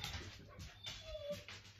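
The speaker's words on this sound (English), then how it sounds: "I think the dogs are gonna get loud" Several dogs whimper and yip from a house inside a chain-link fenced yard, short whines and faint barks coming in uneven bursts at a moderate distance.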